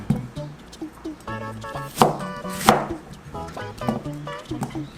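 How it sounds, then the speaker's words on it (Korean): Half an onion is cut into large pieces with a knife on a cutting board, giving a series of crisp, close chopping taps at an uneven pace, with a couple of louder thuds, while a voice speaks over it. "이렇게 큼직하게 썰어주시면 되고요"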